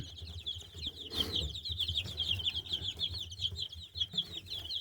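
Young chicks cluck and peep softly while feeding on worms, a rapid run of high chirps repeating steadily over low background noise, with one brief flutter or scuffle near the start.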